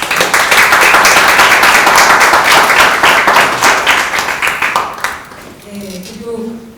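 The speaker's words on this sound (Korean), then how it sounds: "박수로." An audience at a roundtable discussion breaks into loud, dense applause for several seconds. The clapping thins into scattered claps and dies away, and a brief voice follows at the end.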